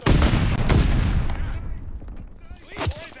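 A stun grenade goes off in the Call of Duty: Vanguard video game, a loud close blast with rumbling crackle that fades over a couple of seconds before a brief voice cuts in.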